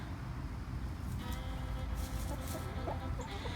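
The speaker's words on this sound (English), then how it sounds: "These Welsummers grew so fast compared to our Buff Orpintons." Welsummer and Buff Orpington chickens cluck in a backyard flock, soft scattered clucks and calls over a steady low rumble like traffic, with no talk.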